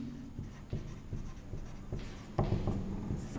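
Writing on a board: a close, fairly loud run of scratchy strokes of uneven length, with short pauses between them and no talk.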